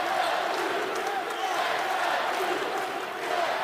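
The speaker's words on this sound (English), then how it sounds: "Crowd making its presence known here at the Atlantic Union Bank Center" A basketball arena crowd roars steadily at a men's college game between Marshall and James Madison at the Atlantic Union Bank Center, a dense, sustained wall of cheering with no breaks.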